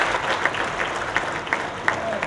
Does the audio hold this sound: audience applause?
yes